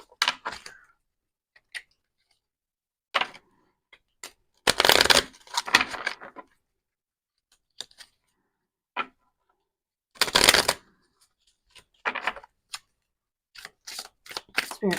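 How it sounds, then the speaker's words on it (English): A deck of tarot cards being shuffled in a few loud, riffling bursts, separated by quiet stretches with soft taps and card handling, close and alone without voices. "That was an awful shuffle."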